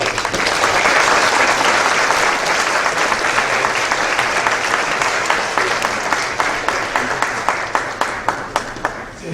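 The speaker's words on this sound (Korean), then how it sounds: "목사님 나오실 때 다시 한번 뜨거운 박수로 축복합니다." Warm applause from a church congregation at a worship service honoring a retiring senior pastor, a dense, loud wash of many hands that thins toward the end into scattered individual claps.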